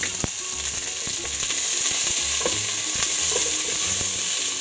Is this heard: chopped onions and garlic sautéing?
yes